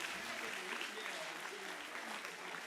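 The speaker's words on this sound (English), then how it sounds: "So give a round of applause for that," Faint, distant audience applause at a student literature conference, a steady patter of clapping continuing throughout.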